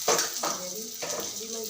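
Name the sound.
whole spices added to hot oil, sizzling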